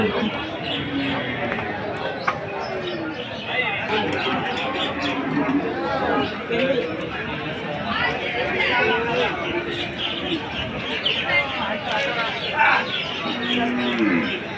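Cattle moo repeatedly at the busy Barobazar cattle market, with low calls rising over constant crowd chatter and nearby talking throughout.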